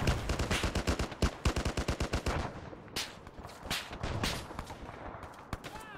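Rapid bursts of automatic gunfire in Arma 3, a fast run of sharp, loud shots for the first few seconds, then scattered, more distant single shots and echoing reports.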